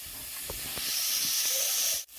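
Bitter gourd hitting hot oil in a pan while cooking shukto, giving a loud, steady sizzling hiss that builds and holds for a couple of seconds before cutting off abruptly.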